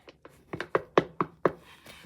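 A door is knocked on in a quick series of about seven sharp raps, close and clear, with no talking over it.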